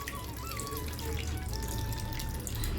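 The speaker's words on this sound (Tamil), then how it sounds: "நான் அதை திக்காக அப்படியே கரைச்சதில் விட்டுறலாம்" Dissolved tamarind water is poured into sambar, a steady close liquid splash and trickle that runs throughout at even loudness.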